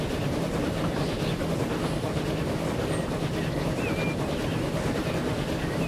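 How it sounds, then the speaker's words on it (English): Passenger train running in the video game Transport Fever 2, a dense continuous rumble with faint clatter that stays steady throughout, no talk. "That train looks pretty busy, just looking inside it."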